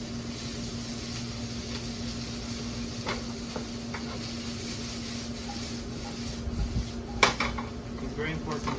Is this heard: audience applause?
no